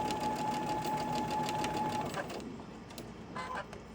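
Electronic sewing machine stitches fabric in a fast, steady whirring run with a thin motor whine, then slows and stops, leaving a few softer clicks and bursts.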